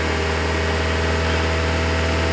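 A Honda Civic engine with a new thermostat, warming up during cooling system bleeding, runs at a steady raised hum under light throttle, a loud close continuous drone without any voices.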